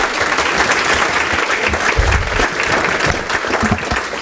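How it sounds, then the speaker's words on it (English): A breakfast audience at the United Way of Westchester and Putnam's Take a Walk in Her Shoes event gives Margaret and the United Way a round of applause, a loud, dense, even wash of clapping from a full room. "Let's give Margaret and the United Way a round of applause."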